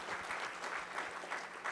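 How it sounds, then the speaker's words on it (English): Steady audience applause inside a church following a historical talk on the American Revolution, even, continuous clapping at moderate distance with no voices over it. "So let's give them a great round of applause."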